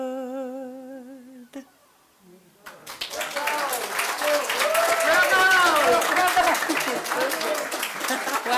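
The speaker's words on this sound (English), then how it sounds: "Nice round of applause, ladies and gentlemen." At a meditation museum's grand opening, sung tones fade and a voice briefly speaks before an audience breaks into steady applause that builds and holds at moderate volume to the end, with some vocal cheering mixed in.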